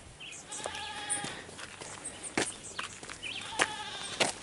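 Several goats bleat in short, wavering calls from moderate distance in Jamaica, overlapping irregularly with soft outdoor background noise.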